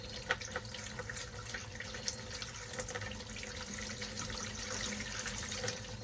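Liquid poured down a camper sink drain during winterizing, a steady faint trickle and gurgle running continuously with light drips.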